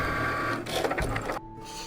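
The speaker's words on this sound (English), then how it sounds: "So this is what will start my machine to cutting my design." A Cricut cutting machine whirs and buzzes close by as it cuts a Halloween T-shirt design, its motor changing pitch briefly before settling into a steady hum.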